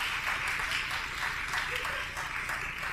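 Sustained applause from a live audience at Laboratorio Crash, a steady dense wash of clapping for about three seconds at even loudness.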